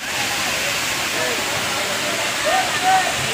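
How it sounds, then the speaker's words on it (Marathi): JummaPatti waterfall roars in a steady broad rush of falling water, loud and continuous at close range, with faint voices briefly surfacing near the end. "तुम्हाला हा धबधबा दिसतोय हा आधीच्या धबधब्यापेक्षा 5 पटीने उंच आहे"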